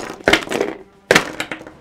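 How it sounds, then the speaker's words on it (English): Dice shaken in a cup and flipped over for Liar's Dice, two sharp rattling bursts with brief clattering tails, close up and without talk. "everybody shuffles their dice in the cup and flips it over."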